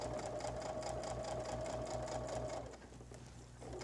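A sewing machine runs steadily, stitching a quilted holiday placemat, with a bright whirring hum that cuts out briefly near the end before starting up again.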